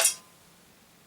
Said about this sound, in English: a tourist-tat sword that has an all-metal scabbard, and it sounds like this when drawn rapidly